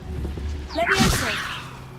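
A spell-casting whoosh from the Levioso levitation charm in Hogwarts Legacy, a single swishing sweep with a bright magical shimmer that swells then trails off, close and fairly loud over a low game background.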